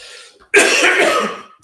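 A single harsh, close cough bursts out after a soft throat-clearing sound, loud and dry, lasting about a second.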